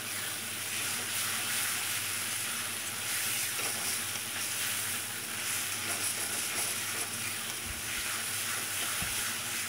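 Pointed gourd with egg and sugar being sautéed in a pan, giving a steady, moderately loud sizzle and hiss that runs without a break, with a couple of faint stirring knocks.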